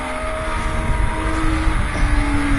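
US Legend race cars roar past at Thompson Speedway, a dense, steady engine drone with shifting pitch and slight swells as the pack goes by, loud and continuous with no talk.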